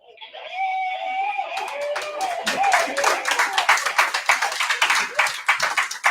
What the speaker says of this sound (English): we come back from the break and we like clapping